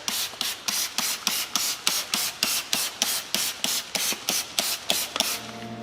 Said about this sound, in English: now you can go in and you can spray your brake buster